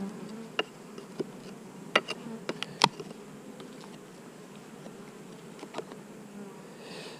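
Bees buzz around beehive boxes in a steady, close hum, broken by several sharp ticks and taps scattered through the first half, with no voices.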